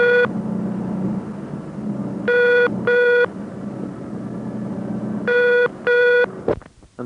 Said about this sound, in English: A special oddity is the ringing tone on the fault reporting number at National and Monarch exchanges.